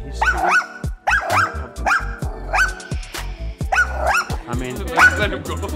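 A dog barks in a rapid series of sharp, close yips and woofs, with a few whines between them. People talk in the background.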